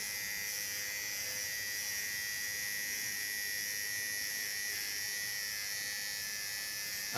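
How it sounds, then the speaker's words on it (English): Small electric hair clipper buzzing steadily and close up as it cuts through hair, a continuous high whine with no talk over it. "There I can go in with my clipper. Use a small clipper. Hold it upside down. And just pushing it through the hairs."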